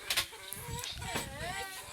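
Chickens cluck briefly and close by in a rural mountain yard, short clucks and calls mixed with faint human voices and rustling.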